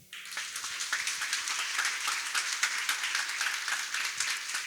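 An audience claps steadily for Samuel at a community talk-circle gathering, a dense, even wash of applause that starts abruptly and holds at a moderate level throughout.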